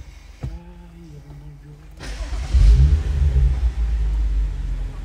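A BMW M135i all-wheel-drive with a Stage 1 tune cranks briefly and roars to life, settling into a deep, loud rumbling idle close by, after a short chime-like tone.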